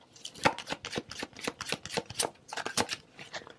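Tarot cards are shuffled and drawn close by, with quick, rhythmic riffling and flicking bursts of papery slaps.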